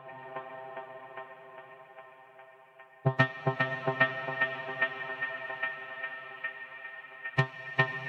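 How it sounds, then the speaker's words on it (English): A synth track with an LFO-modulated filter and phaser plays through a dub echo, repeating notes decaying away; soft and sparse at first, then louder rhythmic pulses with trailing echoes. "I then apply echo, aiming for it to decay between the two marked notes."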